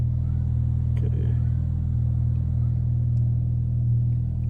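A turbocharged Mk7 car engine idles steadily at close range, a constant low rumble with a faint higher whine above it and no clear revs.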